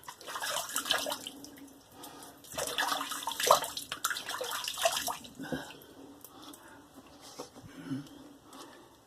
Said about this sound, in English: let me rinse off, be right back